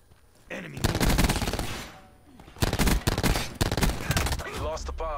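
Rapid automatic gunfire from the video game Black Ops 4, loud sustained bursts in two long volleys separated by a brief lull, with game voices faintly mixed in.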